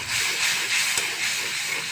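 Prawns hit hot oil over a fried spice paste, giving a steady, loud, broad hiss of sizzling that holds evenly throughout without pause.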